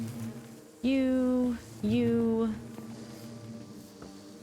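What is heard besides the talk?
bees buzzing in Minecraft (All The Mods 10), video game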